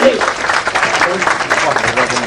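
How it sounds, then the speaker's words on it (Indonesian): A crowd at an anniversary celebration applauds Jokowi after his keynote speech, a dense, loud and continuous wash of clapping throughout. "Kita tepuk tangan untuk Pak Jokowi, Bu Sinta, Edi, silakan"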